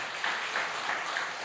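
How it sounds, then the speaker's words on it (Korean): A church congregation claps together during a Sunday worship service on Jeju. The applause is steady and dense, with no voices over it. "우리 박수로 환영하겠습니다"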